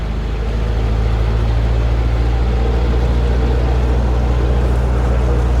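A boat engine drones loudly at steady high revs, about 2000 RPM in maximum reverse, a deep constant rumble with a throbbing low pulse and no speech.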